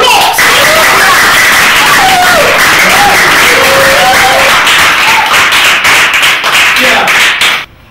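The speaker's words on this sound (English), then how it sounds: "giving Jesus, the Master Jesus, a round of applause." A crowd at a competition event bursts into loud, close applause, with brisk clapping mixed with raised voices and cheers for about seven seconds before it fades out.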